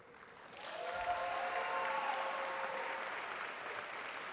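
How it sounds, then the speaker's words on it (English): An indoor crowd at a university volleyball match applauds, a steady wash of clapping that swells in about a second and holds, fairly close and without talk. "giving a round of applause and a huge thank you to the Hargrave family"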